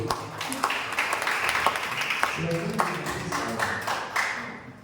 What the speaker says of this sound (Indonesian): Lagi-lagi minta tepuk tangan yang gemuruh